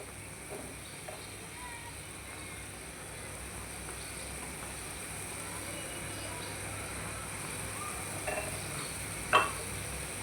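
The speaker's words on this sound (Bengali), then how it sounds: "এখন মশলাগুলো ভালো করে কষায় নিব।" Spices with coriander powder fry in a pan, giving a faint, steady sizzle and hiss with an occasional soft stir or clink, and no one speaking.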